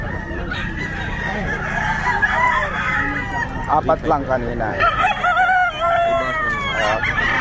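A fighting rooster crows at the Bocaue pet market, its loud, drawn-out calls repeating close by amid other fowl clucking, while people talk nearby.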